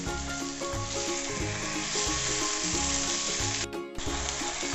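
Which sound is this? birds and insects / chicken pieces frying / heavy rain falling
chicken pieces frying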